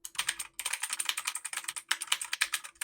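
Rapid typing on a USB keyboard connected through an adapter hub, a close, crisp run of key clicks in quick bursts with short pauses between them.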